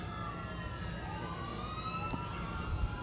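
A lead police car's siren at a community parade, wailing tones sweeping up and down over steady traffic rumble, moderately near and continuous with no talking.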